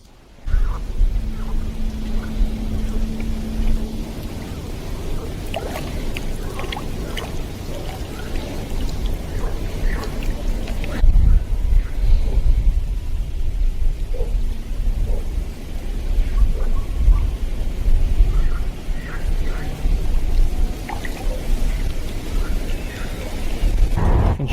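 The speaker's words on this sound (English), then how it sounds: "It's constantly raining." Steady rain pours down with low thunder rumbling through it, heard outdoors during float fishing in Russia; a dense, continuous wash of rainfall with no clear talk.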